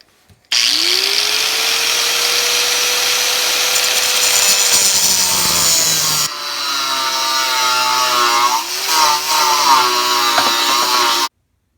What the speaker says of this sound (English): clamp this thing to the workbench and go at it with an angle grinder